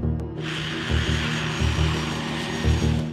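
An A-10 Warthog attack aircraft's engines give a steady, loud jet roar with a rising whine throughout, close and continuous with no talk.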